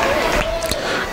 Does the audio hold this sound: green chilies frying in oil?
no